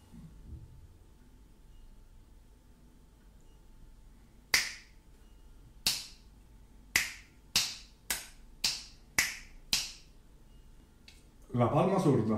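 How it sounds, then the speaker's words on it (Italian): Finger snapping, about eight crisp, bright snaps in a steady rhythm after a quiet start, close and clear, with a voice starting at the very end. "Lo schiocco delle dita."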